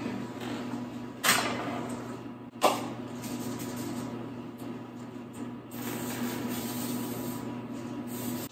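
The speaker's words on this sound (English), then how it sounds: "Now I'm going to spray a baking sheet with cooking spray." Two short hissing bursts of cooking spray onto a baking sheet, then quieter hissing and soft rubbing sounds against a steady background hum.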